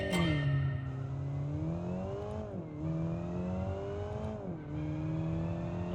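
A custom-built car engine in the Automation game revving steadily, with the pitch rising through the gears and three clear drops at the shifts, heard alone and fairly close.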